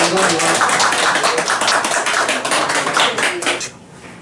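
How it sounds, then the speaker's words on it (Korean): A group of people clapping together at a donation ceremony for a volunteer group, a steady spread of hand claps for about three and a half seconds before it drops away. "우리 박수로 다 같이 할게요."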